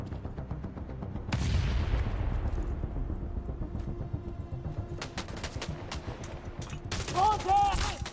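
Gunfire in The Division Resurgence, a loud burst followed by repeated sharp shots and rattling volleys, with in-game voices calling out over the shooting.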